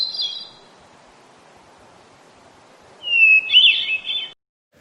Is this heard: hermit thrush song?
yes